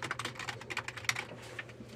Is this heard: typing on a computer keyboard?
yes